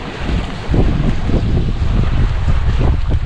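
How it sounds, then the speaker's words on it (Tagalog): Strong northeast monsoon wind blows past a boat, a loud continuous roar of gusting air buffeting the microphone without pause. "ang lakas ng amihan dito ngayon lakas ng amihan"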